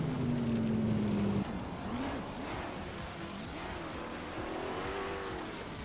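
A Lola T70 Mark with a Chevrolet engine races in a driving game, its engine whining at a steady high pitch, then dipping and rising through gear changes and throttle swells, loud and continuous with other cars blending in.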